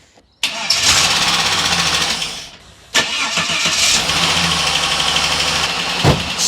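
A Holden Ute engine with a freshly reworked cylinder head cranks and catches loudly, stumbles briefly, then fires again and settles into a rough, uneven idle close by.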